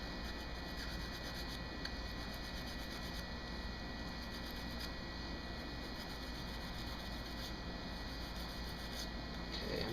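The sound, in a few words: brushing old grease and grime off a Glock 17 slide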